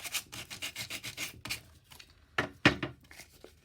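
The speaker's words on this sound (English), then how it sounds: "I'm just sanding that down." Hand sanding works over the rough corners of an upcycled wooden frame, with quick rhythmic back-and-forth rubbing strokes. After a pause, a few harder, louder scrapes follow, close and alone.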